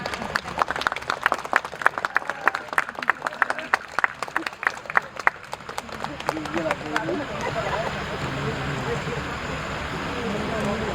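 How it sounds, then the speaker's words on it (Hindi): A theater audience applauds the play's performers with dense rhythmic clapping that thins out midway, then gives way to a softer, rushing crowd wash and murmur. "जोरदार तालियों से इन सभी कलाकारों का मनोबल बढ़ाएं।"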